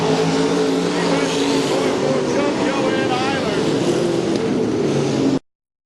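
Race cars roar around an I-55 Raceway dirt track during Fall Dirt Nationals pure stock and sportsman heat races, a loud continuous engine drone from the pack with an announcer talking over it.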